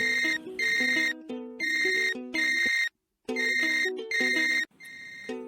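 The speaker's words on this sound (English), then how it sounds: "Why the phone is ringing so loudly?" Telephone ringing loudly in a repeating electronic ringtone pattern, bursts of bright chiming tones with one short pause midway, close and alone with no speech.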